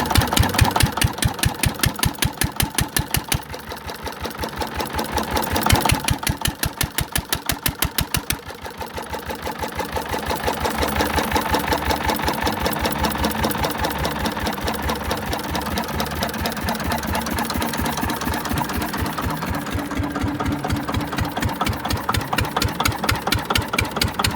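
An antique single-cylinder Witte diesel engine runs steadily nearby, its loud, even rapid firing thump continuing without a break, with small shifts in speed and no speech.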